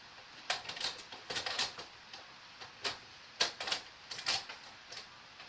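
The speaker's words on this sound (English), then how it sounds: "let me just adjust this printer" Sharp mechanical clacks and rattles from a computer printer being adjusted, irregular bursts of taps and knocks spread across several seconds, fairly close and with no talk.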